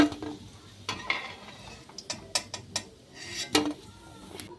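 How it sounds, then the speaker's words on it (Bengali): Prawn balls fry in hot oil in a home kitchen, with an irregular run of sharp clinks and scrapes from stirring over a soft, steady sizzle. No voices are heard. "বাকিগুলো এইভাবে ভেজে নিচ্ছি"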